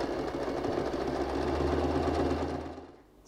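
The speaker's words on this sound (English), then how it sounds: "So just start any way you like and go and sew a half an inch stitch." A sewing machine hums in one steady, close run while stitching a half-inch seam around a fabric bag made with curtain rings, then falls quiet at the end.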